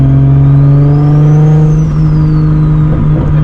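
Nissan S15 with a 500 HP RB26 engine on a mountain run, its loud, close engine holding a strong steady drone while the pitch climbs and then eases, with no talking.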